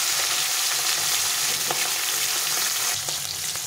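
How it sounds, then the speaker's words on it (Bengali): Katla fish fries in a pan with spices, making a loud, continuous sizzle close by with faint stirring crackles and no talking. "তো মাছটা একটু ভালো করে ভেজে নিতে হবে,"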